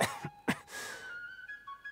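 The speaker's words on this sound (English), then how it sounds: "Coughs." In Genshin Impact, a game character gives a couple of short, sharp coughs up close, followed by quiet tonal game music.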